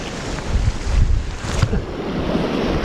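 Wind gusting on an open sea shore during lure fishing for bass and wrasse, a loud steady rumble with buffeting on the microphone and no speech.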